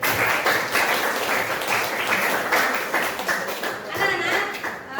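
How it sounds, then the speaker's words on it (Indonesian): Schoolchildren clap for themselves in a classroom at the teacher's prompt, a dense, steady patter of many small hands that carries on throughout, with a voice faintly underneath. "Tepuk tangan buat kalian."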